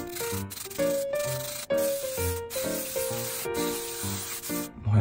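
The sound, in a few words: hair spray being sprayed to finish hairstyle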